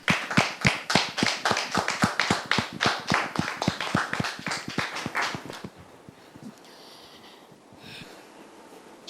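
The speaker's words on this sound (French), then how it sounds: "Merci de les recevoir avec vos applaudissements." An audience claps to welcome guests at a church wedding gathering, a fast dense round of many hands that rings out strongly for about six seconds, then breaks off into near quiet.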